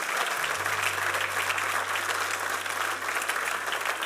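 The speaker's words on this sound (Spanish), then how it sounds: "Vamos a darle un aplauso al Señor." Sustained applause from a church congregation during a sermon service, continuous and fairly loud, with a steady low musical drone beneath the clapping and no talking.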